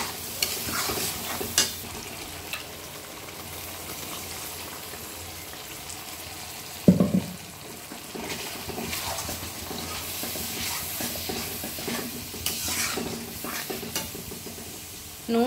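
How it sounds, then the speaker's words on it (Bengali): Spice paste frying in oil for an Echor Chingri dish, a steady mid-level sizzle with intermittent spatula scrapes and stirs against the pan and one brief louder knock partway through. "এবার মশলাটাকে ভালো করে আমি কষে নেব।"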